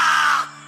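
A single harsh, drawn-out caw like a crow, loud and close, fading at the end; a voice imitating a crow in a cartoon.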